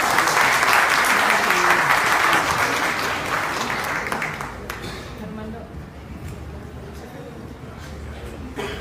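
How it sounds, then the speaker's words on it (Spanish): An audience claps loudly and densely for several seconds at a formal talk on pensions, then the applause thins and fades to scattered claps with faint murmuring voices under it. "Les damos un aplauso a la licenciada por permitirnos a darle plática"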